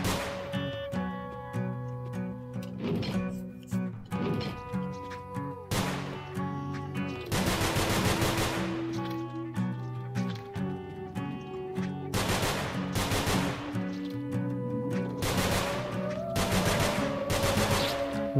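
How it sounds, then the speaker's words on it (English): Rapid gunfire from the video game Nongunz rattles on nearly nonstop in dense bursts, loud and close over a droning electronic music bed, with no talking. "Oh, I just have to shoot it to get out?"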